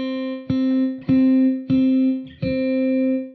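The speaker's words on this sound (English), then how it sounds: "it really just pushes the guitar back in the room and it makes it sound wider and fuller" Ambient electric guitar from the Hemisphere Kontakt instrument with its air control engaged and reverb bypassed: four sustained, chiming notes struck about every 0.6 seconds, each ringing on with a wide, full tone and no talking.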